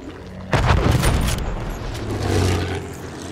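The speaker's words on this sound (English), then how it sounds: "Throwing grenade! Watch it!" A grenade goes off in Battlefield 1 with a loud, close boom that rumbles and decays over a couple of seconds, followed by a lower secondary swell.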